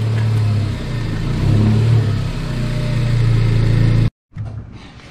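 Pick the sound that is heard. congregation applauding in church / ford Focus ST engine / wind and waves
ford Focus ST engine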